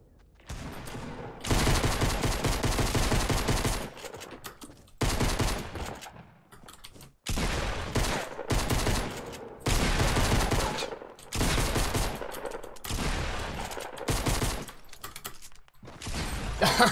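Shotgun and other gunfire in a Fortnite match, with rapid bursts of loud blasts that come in long clustered stretches broken by short pauses. The shooting sounds close and dense throughout.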